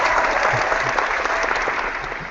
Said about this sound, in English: let me give Lou an applause first